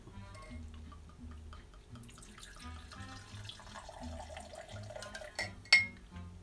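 Two ounces of Rum Bar rum poured for a cocktail, a soft, close trickle of liquid into a glass with faint clinks and a sharp glass tap near the end, quiet and steady with no talking.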